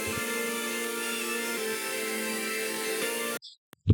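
Several grungy hyperpop synth layers play together as one thick, buzzy sustained chord for over three seconds, then cut off abruptly, leaving brief silence with a couple of small clicks.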